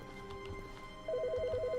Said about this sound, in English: Why do I hear a phone?